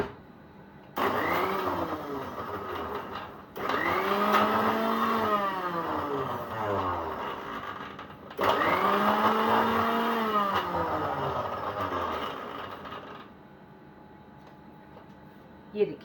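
A kitchen blender churns jalebi batter in steady, loud whirring runs of several seconds each, with short pauses between them and no talking.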